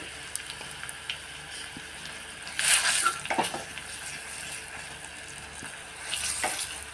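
Garlic cloves and curry leaves dropped into hot oil for a tempering with turmeric, giving a soft steady sizzle with brief louder crackling bursts at the start and near the end.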